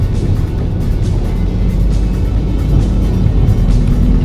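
A car's engine hums as it eases forward at low speed through a narrow residential lane, a loud, close, steady rumble with no sharp revving and no voices.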